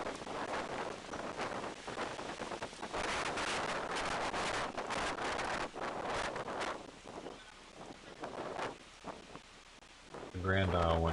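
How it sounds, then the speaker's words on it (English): Strong Hurricane Ida wind roars and buffets the microphone in loud gusting surges, with speech heard through the blustery noise. "It's getting out of hand with the wind."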